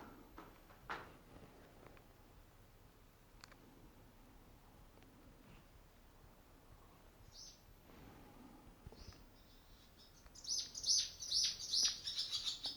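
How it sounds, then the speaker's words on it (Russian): Bright bird chirps and tweets burst out near the end inside the ground floor of Bykhov Castle, quick repeated calls over a quiet background with faint earlier rustles. "Птицы."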